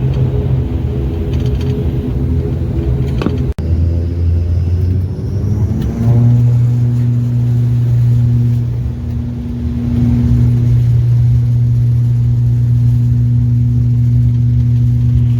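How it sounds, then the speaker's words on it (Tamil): A passenger plane taxiing toward the runway on a Salem to Bangalore flight, its engines giving a steady, loud droning rumble with a humming tone that rises and settles partway through. "இந்த ஃப்ளைட் பார்த்திங்கன்னா ரன்வேக்கு போயிட்டுருக்குங்க."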